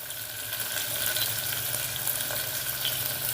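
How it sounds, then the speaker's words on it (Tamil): Sliced onions frying in oil and ghee in a cooker for prawn coconut milk biryani, a dense, steady sizzle that holds evenly for the whole stretch. "நம்மளோட ஆனியனை ஸ்லைஸாக வெட்டி வச்சுருக்கோம் பார்த்தீங்களா, இதையும் சேர்த்துக்கோங்க."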